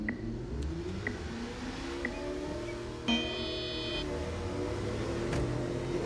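A heavily modified car in the video game NTE, its engine tuned for maximum upgrades, drones steadily while driving, a continuous rumbling hum with slight pitch shifts as it accelerates around a corner.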